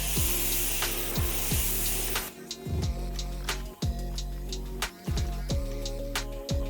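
Metallic glitter paint sprayed from a can over a stencil in a steady hissing burst, then several short sharp clicks and taps with brief pauses in between.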